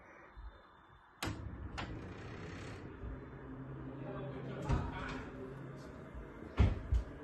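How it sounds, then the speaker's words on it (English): A bedroom door opening and closing indoors, with sharp knocks and clicks of the latch and frame over low room noise, spaced irregularly through the stretch. "I actually have a video of my bedroom door opening and closing on command"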